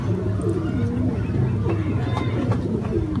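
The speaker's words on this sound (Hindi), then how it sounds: "ये मेरा नर है और ये अम्बाले वाले कबूतर कहलाते हैं।" A male Ambala pigeon coos in a low, soft, continuous murmur that runs close and steady throughout.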